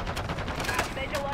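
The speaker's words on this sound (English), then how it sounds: "I'm taking enemy fire." Rapid automatic gunfire from a Modern Warfare 2 multiplayer match, a dense continuous burst with sharp cracks, mixed with game sound effects and faint voice chatter.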